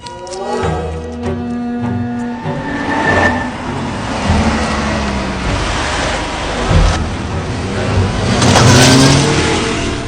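A car engine on an urban street revs and drones steadily at moderate loudness, with its pitch rising and falling, and a louder surge near the end.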